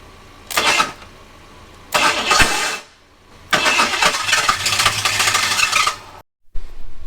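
An abandoned Ford Thunderbird's engine cranks repeatedly without catching: loud, close bursts of starter whirring, separated by short pauses and ending abruptly.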